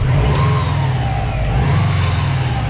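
A car engine revved by hand at the throttle body, a loud steady mid-pitched roar with gentle rises and dips in speed, close by and with no talking.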